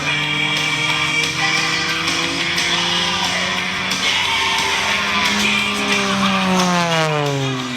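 An MXS aerobatic airplane roars past show center at an airshow, a loud continuous engine drone whose pitch sweeps and falls as it passes, with no talk.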